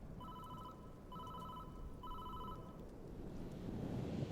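A telephone rings three times in evenly spaced bursts, the tone steady and clear over a constant bed of outdoor wind-like noise that swells slightly toward the end.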